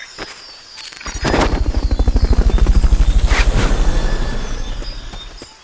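Loud, rapid rotor chop from a helicopter in the video game Metal Gear Solid: Peace Walker builds quickly and pulses steadily, then gradually fades, with metallic clanks at the start.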